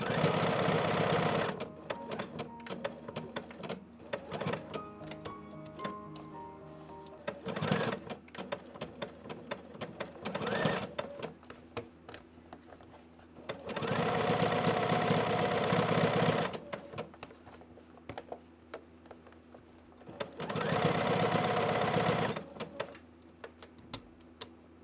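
A sewing machine stitches a blouson neckline in several separate runs of steady whirring, with stops to lock the stitch and shift the fabric, clicks and handling sounds in between, close by.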